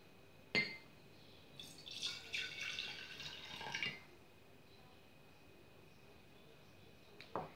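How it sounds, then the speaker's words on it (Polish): Water poured into a jar for a simple kitchen science experiment: a faint splashing trickle lasting a few seconds after a single clink, with a quiet tap near the end. "Na samym początku wlewamy wodę do słoika."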